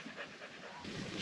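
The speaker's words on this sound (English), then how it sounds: "our dogs are doing really well" A dog pants close by at a free campsite on the waterfront, quick breathy huffs in a steady rhythm with faint wind in the background.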